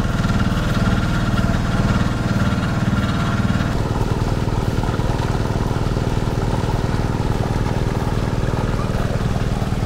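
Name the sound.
two engines running at a fishpond harvest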